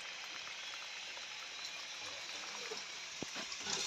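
Water runs continuously from a hose into a leaking wooden barrel being swelled for palinca, a steady hissing trickle with faint splashes near the end.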